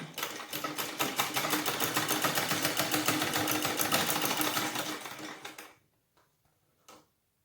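A sewing machine stitches along a seam of buckram fabric with a rapid, steady mechanical chatter for about five seconds, then slows and stops, followed by a couple of faint clicks.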